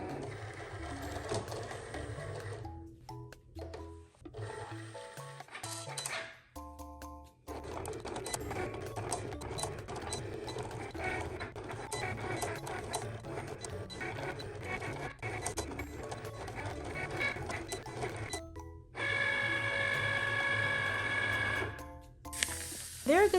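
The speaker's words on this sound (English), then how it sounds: "I found some sparkle images online, threw them in my Cricut, and crossed my fingers that they wouldn't be too big." A Cricut cutting machine works through sparkle images, giving a close mechanical whirr with stop-start carriage movements and short pauses, then a higher sustained motor whine near the end. No one speaks.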